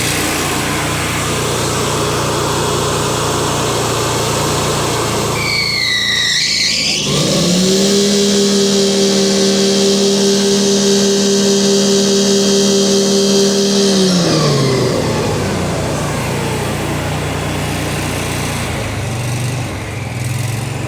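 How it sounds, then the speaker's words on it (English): A Walker MT23 ride-on mower's small engine revs up sharply and holds a loud, steady high-pitched drone at full power for several seconds, then winds back down to idle, close up with no talking. "when you go to turn the mower on, I'm going to put this up on full power"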